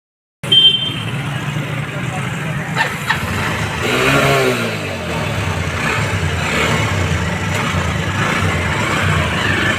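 A Honda Livo motorcycle, just after clutch fitting, fires up abruptly after a moment of silence. It settles into a loud, close idle with a brief rev partway through and a steady engine drone to the end.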